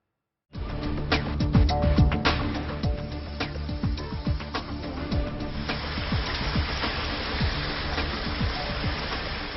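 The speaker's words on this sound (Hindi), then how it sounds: "पहाड़ी इलाकों में भारी बारिश हो रही है लगातार" Heavy monsoon rain falling steadily in hilly terrain, a dense, loud, continuous hiss with scattered sharper drops and patters throughout.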